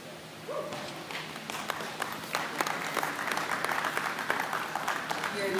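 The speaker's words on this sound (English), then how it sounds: "please congratulate these exhibitors and breeders on a very nice market heifer show" Applause from the audience at a junior market heifer cattle show, steady clapping that builds and holds throughout, with crowd murmur underneath.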